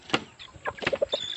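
A rooster gives a few short, quick clucks, close and fairly quiet, with a soft high chirp near the end.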